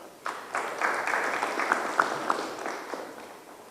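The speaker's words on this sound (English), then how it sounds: "please welcome him with a huge round of applause" A summit audience at a micronutrient conference gives a welcoming round of applause to a speaker, a moderate, continuous wash of clapping with a few sharper claps standing out, gradually thinning toward the end.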